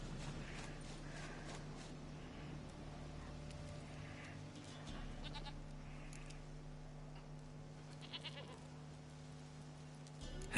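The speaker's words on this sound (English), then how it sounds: "Goat of mine, dearest, sweetest goat." A goat bleats in The Witcher 3 game amid a quiet ambient hum and soft game sounds, the bleats coming in short, faint bursts with no talking.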